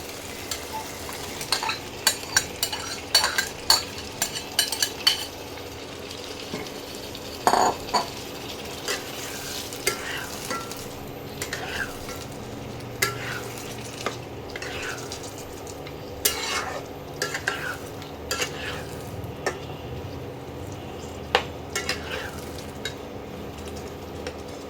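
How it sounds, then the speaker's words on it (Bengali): Mutton coated in yogurt, garlic paste and pepper paste being stir-fried in a pan, with a steady sizzle under repeated scraping and clinking of a spatula against the pan throughout. "এবার মাংসটাকে ভালো করে কষিয়ে নিতে হবে।"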